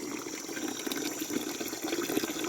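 Tap water runs weakly while filling a container in a Gujarati village, a steady, thin hissing rush with no breaks, at close range and fairly quiet.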